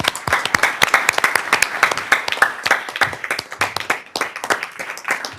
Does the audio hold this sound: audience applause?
yes